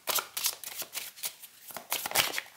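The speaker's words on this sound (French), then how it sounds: "Alors, je remélange." A deck of tarot cards being reshuffled by hand, a quick series of close riffling and flicking bursts with brief pauses between them, no voice over it.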